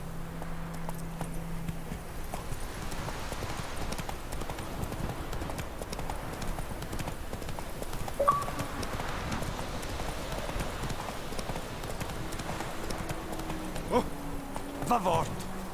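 The horse Roach gallops in The Witcher 3: Wild Hunt, hooves drumming in a quick steady rhythm against game ambience, with a voice talking over the hoofbeats.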